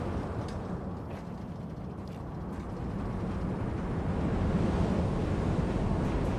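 A waterfall in the video game Planet Coaster 2 gives a steady, broad rush of falling water that swells slightly louder toward the end, with no voices over it.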